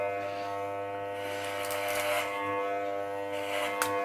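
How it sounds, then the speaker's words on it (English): An electric hair clipper with a number 4 guard cutting a man's hair, a steady close, loud motor buzz with a fixed pitch running without a break, and no talking. "What clipper number you got?"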